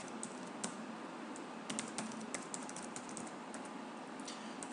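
Quick, uneven keystrokes on a computer keyboard while filling in a sign-up form, with soft clicks scattered over a steady background hiss and no voices.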